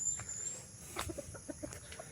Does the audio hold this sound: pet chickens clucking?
yes